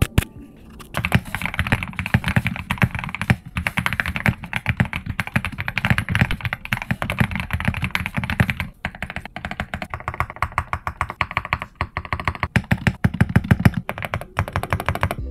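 Rapid, continuous clacking of an Epomaker Shadow-S mechanical keyboard with linear switches, close and crisp, with uneven bursts and short pauses, no talking.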